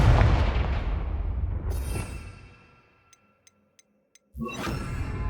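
The Confringo spell is cast in the Hogwarts Legacy video game: a loud explosive blast rumbles and fades, then a few sharp ticking clicks sound before another burst erupts.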